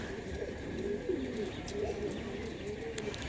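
Lotan pigeons cooing softly, several low rolling coos repeating over a quiet background hum.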